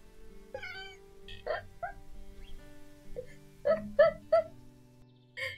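A cat meows several times in short, close calls with some pauses, a few rising wails bunched near the end, in a quiet indoor room.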